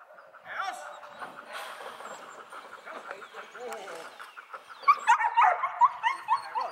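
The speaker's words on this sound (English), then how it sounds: "That's Jeremiah's old dog." An older German Shepherd dog whimpers and lets out high yips, getting louder and more insistent near the end, over a busy background with some voices.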